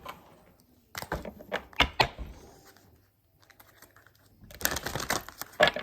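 Tarot cards being shuffled in short, sharp bursts of riffling and tapping, close and fairly loud with brief pauses between, and a longer burst near the end.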